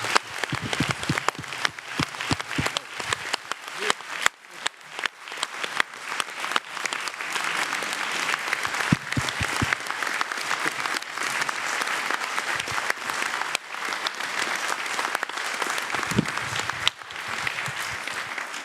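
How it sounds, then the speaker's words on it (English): Sustained audience applause fills a gathering after an interview session, steady dense clapping throughout with no voices on top, moderately loud and even from start to finish. "Ladies and gentlemen, a big round of applause for Michael Tynan."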